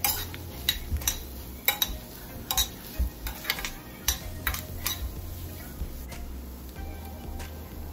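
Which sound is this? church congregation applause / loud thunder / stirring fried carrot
stirring fried carrot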